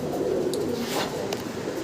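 White Danish pigeons coo softly and steadily at close range, a low throaty murmur that runs through the whole moment, with a couple of faint higher chirps breaking through.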